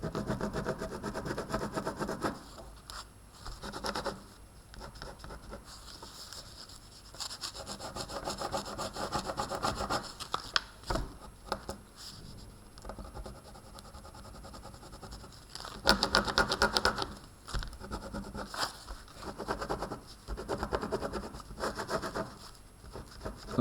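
A pencil scribbles loose, scratchy shading strokes across textured paper, a continuous close rasping that rises and falls with quick back-and-forth rubbing, no voices.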